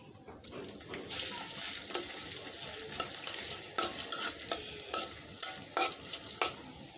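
Onion frying in oil in a wok (kadai) with fenugreek, cloves, cardamom, cinnamon and bay leaf while cooking duck curry with potatoes: a steady moderate sizzle with scattered crackles and stirring scrapes, no talk.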